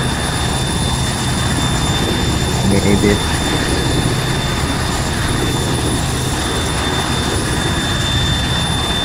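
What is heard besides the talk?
helicopter engine in video game Arma 3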